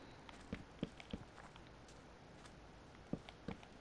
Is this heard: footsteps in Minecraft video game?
yes